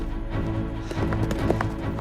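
A wild horse moves in a pen, its hooves clip-clopping in a quick, irregular run of close knocks over a steady low rumble.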